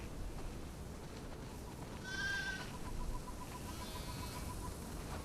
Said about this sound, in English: Wow, that's a lot of sheep.